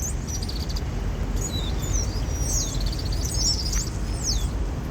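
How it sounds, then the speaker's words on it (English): Small blackbirds crowding every branch of a tree chirp in a dense, overlapping chorus of quick high calls, steady throughout over a constant low background rumble. "This whole tree is loaded with, what kind of birds are they?"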